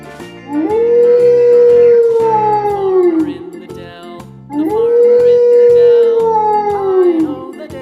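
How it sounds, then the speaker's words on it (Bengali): A jackal gives two long, loud howls, each rising and then sliding down, with a short pause between them. Light rhythmic music from a children's alphabet rhyme plays underneath. "খ্যাক শিয়ালি পালায় ছুটি"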